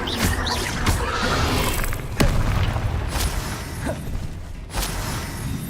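Confringo spell blast in Hogwarts Legacy, a few booming bursts with whooshes and scattered impact cracks amid combat sounds, moderately loud and spaced apart.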